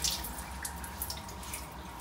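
Holy water runs and drips at a monastery of Saint George in Bulgaria, a soft, steady trickle with small splashes, faint and close with no voices.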